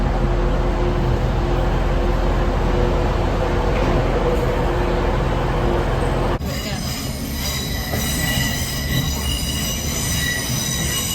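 A train pulls out of Manchester Victoria station, wheels squealing loudly against the rails alongside steady rolling rumble, close by and with no talk.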